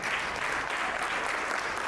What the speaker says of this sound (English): Give a round of applause for these brothers